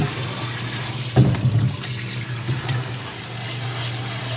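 Tap water runs over ground beef in a sieve, a steady hissing stream with a louder splashing surge near the start and small clatters later.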